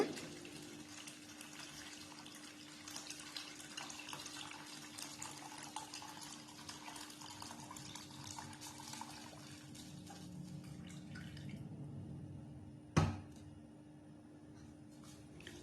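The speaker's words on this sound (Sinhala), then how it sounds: "මම මේකට එකතු කර ගන්නවා චිකන් ටික තඹගත්තු වතුර ටික" Broth from boiled chicken is poured into a pot of chicken sweet corn soup, a steady close pouring and trickling that runs for several seconds, then ends with a sharp clunk and quiet.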